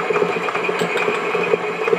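Electric mixer creaming cookie dough, a steady close motor whir with a faint rhythmic churning pulse, continuous and fairly loud throughout, no voices.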